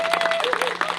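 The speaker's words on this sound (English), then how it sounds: "give a big round of applause to the committee that organized Pride here today" A short burst of crowd clapping for the committee that organized the Brandon Pride event, close and fairly loud, with distinct individual claps and a faint steady tone beneath.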